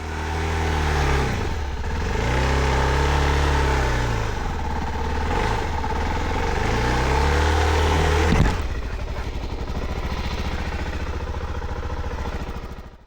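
A Suzuki DR-Z4S dirt bike engine revs hard and repeatedly while climbing a rutted, technical off-road trail, rising and falling loudly and close, then settling into a steadier drone.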